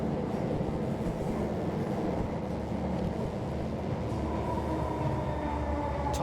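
Train interior in the video game Vertigo Remastered: a steady, dense rumble of a moving carriage with faint rhythmic rail clatter, continuous and fairly loud throughout with no speech.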